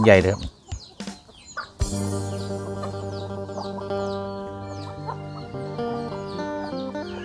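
Free-range backyard hens and chicks being fed: a few loud clucks at first, then continuous high chick peeps and clucking over a steady tonal background.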